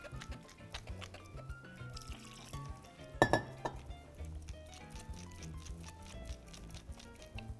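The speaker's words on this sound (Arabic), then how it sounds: "هناخد دلوقتي المية بقى ونبتدي نزود مية" Water trickles into tahini sauce in a bowl while kebab sides are prepared, small pours mixed with clinks of glass or utensils and one sharp clatter midway.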